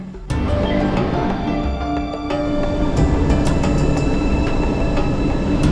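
An MRT-3 metro train on EDSA in Manila rumbles steadily along the rails, with a continuous loud roar, clattering wheels and faint tonal whines throughout; no talking.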